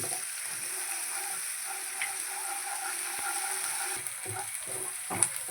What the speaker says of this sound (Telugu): అల్లం వెల్లుల్లి వేసాను వేశాను ఇది కొంచెం వేగనిద్దాము పచ్చివాసన పోయే వరకు